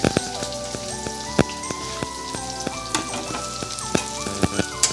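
Sliced onion frying in hot oil with cumin and bay leaf, a steady crackling sizzle with sharp pops throughout, no talking, while a tonal melody plays along underneath.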